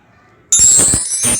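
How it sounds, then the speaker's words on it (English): An Android phone's Prudence screen reader plays a short, bright chiming tone as it switches on, a quick ringing bell-like sound after near silence. "This is the sound of Prudence screen reader turning on."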